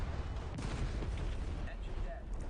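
Artillery barrage explosions in a video game, a dense rumbling roll of booms and blasts running continuously through the clip at steady loudness.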